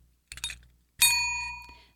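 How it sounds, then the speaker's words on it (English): A small bell is rung twice, first with a short jingle, then with a clear ring that has a wavering tone as it is moved and slowly decays. "Little bell wavery tone as you moved it."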